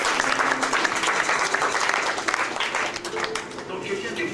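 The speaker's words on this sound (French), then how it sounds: "Acclamez très fort." An audience at a French-language church service claps and applauds loudly and steadily, a dense wash of clapping that holds for several seconds before easing slightly.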